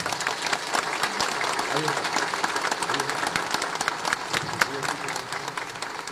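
Applause from a church congregation at a farewell for the Virgin del Cisne statue, a dense, steady wash of many hands clapping, fairly loud and sustained throughout.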